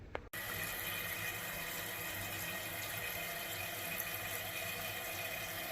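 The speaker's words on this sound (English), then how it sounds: "I'm going to go check the toilet, make sure that it's filling up" Water runs steadily into a toilet tank as it refills after the supply is turned back on, a constant close hiss and rush following a brief click at the start.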